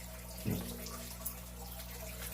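Water trickles and bubbles in a home fish tank, a soft, continuous running sound with a faint splash or two, heard close in a quiet room with no talking.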